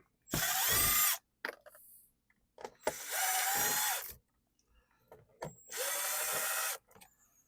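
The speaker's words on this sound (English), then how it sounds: "There we go, we got all 4 screws out." A screw gun backs screws out of an old HVAC air vent in three separate whirring bursts, each about a second long, with small clicks and handling noises in the gaps.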